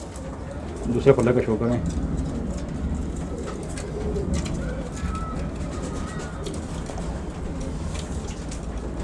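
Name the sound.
pigeons cooing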